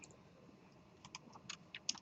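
Keys tapped on a computer keyboard during a programming lecture, soft at first and then a quick run of close, light clicks, with no one speaking.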